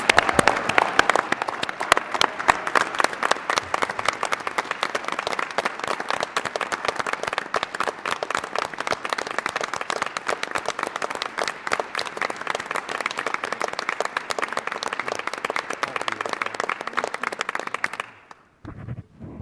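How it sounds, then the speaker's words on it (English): Sustained, even applause from attendees at an Oregon Tourism Commission meeting welcoming guest Thelma Hagen-Miller of Slowpoke Tours; a thick wash of clapping runs nearly twenty seconds before cutting off abruptly. "Let's give her a round of applause"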